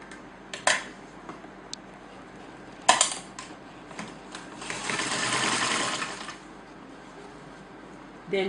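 An electric automated sewing machine stitches a hem, its motor whirring in short bursts with a sustained run in the middle, punctuated by sharp clicks and clatters nearby.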